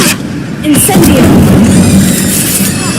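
An Incendio fire spell cast in Hogwarts Legacy lets out a deep booming burst that swells into a sustained roaring whoosh, loud and close, with a voice heard over it.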